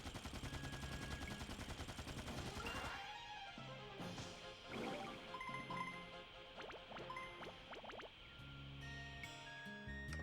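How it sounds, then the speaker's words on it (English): Video game gunfire with bullets striking, rapid bursts of shots and sharp impacts over constant background game noise. "Are those bullets reaching all the way over there?"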